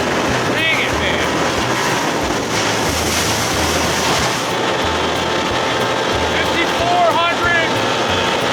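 Boat driven by a Johnson 60 hp outboard pounding across waves, a steady loud engine roar with wind rush and hull slaps throughout, no talking.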